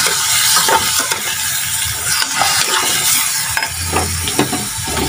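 Garlic sautéing in a hot pan, a steady loud sizzle and crackle with occasional scrapes of stirring throughout.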